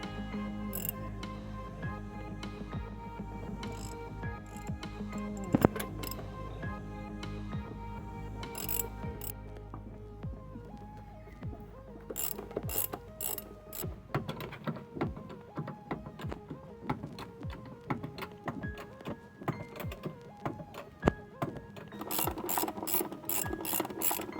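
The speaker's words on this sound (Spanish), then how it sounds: "Hacemos la extensión, la matraca, nos aseguramos el torque de dirección de afloje" A ratchet on an extension clicks in quick bursts of ticking while loosening brake parts on a Mitsubishi Montero Sport, with short pauses between the runs of pawl clicks.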